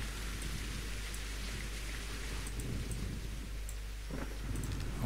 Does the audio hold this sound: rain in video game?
yes